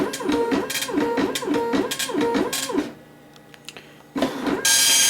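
A Panasonic KX-P1524 wide-carriage dot matrix printer prints with loud, rhythmic rasping head passes that rise and fall, then a quieter mechanical pause before the printing noise resumes, with no talking.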